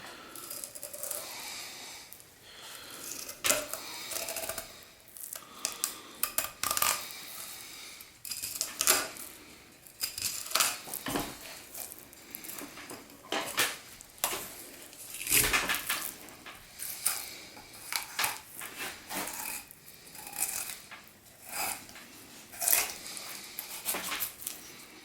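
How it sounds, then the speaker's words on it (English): A filleting knife working along fish bones, producing a steady close chatter of small clicks and scraping crunches with irregular louder snaps, no talking. "you're kind of following the bones, and the bones are making this little chatter"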